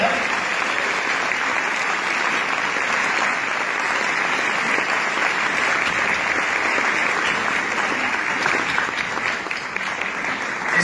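Sustained, loud applause from a crowd at an award ceremony for a youth writing contest, an even wash of many hands clapping continuously for about ten seconds.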